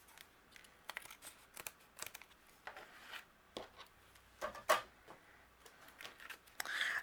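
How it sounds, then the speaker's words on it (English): Scissors trim overhanging adhesive foam on a handmade card, giving a few soft, close snips and crinkly paper-and-foam rustles that come in quiet bursts, with no talking over them. "And then the excess that's overhanging, I'm going to trim off with my scissors."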